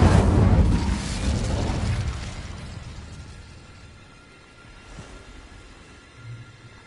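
A fiery Incendio spell cast in Hogwarts Legacy on PS4: a loud whooshing burst that flares up at once and then decays over about two seconds into a quieter rumbling tail, with a faint second puff near the end.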